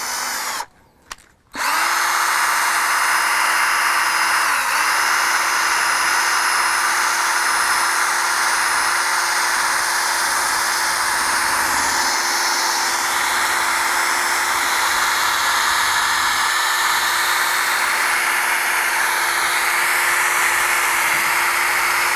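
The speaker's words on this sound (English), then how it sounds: "My drill has variable speed, so I'm going to start with the slow one just to kind of spread it on" A power drill buffing a headlight with a restoration kit whirs steadily at close range after a brief stop-start at the beginning, holding a constant high whine throughout.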